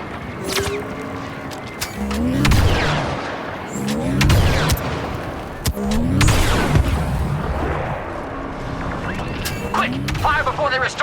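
Blaster gunfire on Geonosis in Star Wars Battlefront II: repeated sharp laser shots and zapping bursts over booming battle noise and mechanical clatter, dense and continuous, with game voices talking over it.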